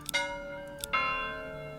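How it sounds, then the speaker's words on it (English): Church bell in a medieval city-builder video game, tolling twice in slow succession with a clear ringing tone that decays slowly after each strike, heard alone. "Change the bell to the saddest one I could find."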